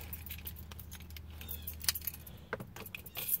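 Keys to a 2020 Toyota Corolla jangling close by, a run of light metallic clinks and rattles that come in irregular bursts over a low steady hum, with no talking.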